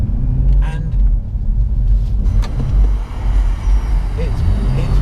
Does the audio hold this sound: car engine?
yes